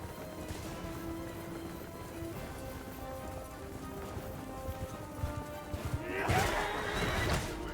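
Horse in the video game Bannerlord gives a loud whinny near the end, heard over a busy battle din of hooves and clashing noise, with a player talking over it.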